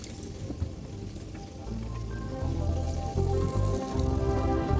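Water pours into a cooking pot of apples and sweet syrup, a close, rising splash and gurgle that grows louder and fuller as the pot fills, with no one talking.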